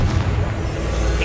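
A deep, loud explosive boom from the Confringo blasting spell in the Hogwarts Legacy game rumbles through a boss fight, a dense low blast that fills the moment.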